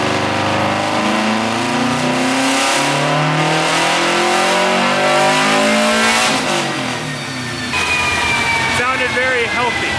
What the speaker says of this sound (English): I had one ear plugged because this car is really loud.